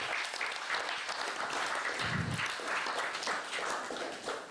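A temple congregation at ISKCON Dallas gives a big, sustained round of applause for the serve-out team, dense steady clapping that fills the room without pause.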